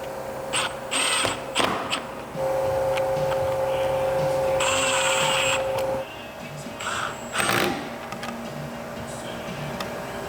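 A drill drives screws through speaker brackets while a Kenwood sound system is fitted into a Camaro, with a sustained motor whine for several seconds amid short bursts of clicks and knocks.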